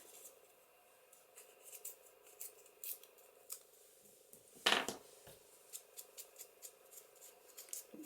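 Paper is torn by hand while embellishing a specimen tag and envelope for a junk journal, one short sharp rip in the middle of quiet, faint rustling and handling.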